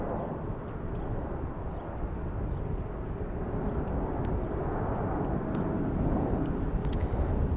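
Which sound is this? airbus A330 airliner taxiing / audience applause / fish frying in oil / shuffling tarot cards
airbus A330 airliner taxiing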